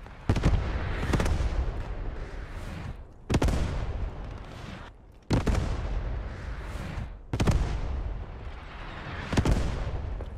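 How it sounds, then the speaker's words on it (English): Enemy artillery fire pounds the trenches during a 50-versus-50 Post Scriptum battle at Utah Beach: four heavy blasts at intervals of about two seconds, each trailing into a long rumbling decay, with almost no voices. "Enemy artillery."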